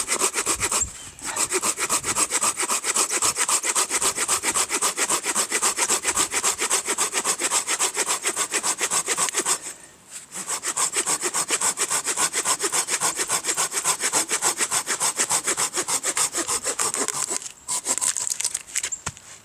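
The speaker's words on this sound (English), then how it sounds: "it's going to take us a little longer to get through this wood." A Silky folding saw cuts through a wooden log outdoors, giving a steady, loud, rasping back-and-forth rhythm of short strokes with two brief pauses partway through.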